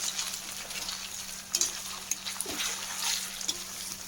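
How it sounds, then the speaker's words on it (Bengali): Paneer cubes frying in hot oil in a pan, a steady hiss and crackle with a few sharper pops and spatters, close by and with no voices. "দেখো পনির ভাজতে একদম বেশিক্ষণ টাইম লাগে না"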